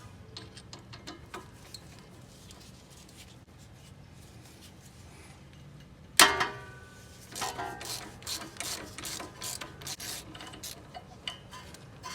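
A 12mm ratchet working a brake line fitting on an Acura MDX, quiet clicking at first, then a sharp metallic knock followed by bursts of ratcheting and clanks, close and fairly faint.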